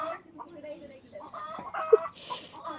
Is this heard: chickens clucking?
yes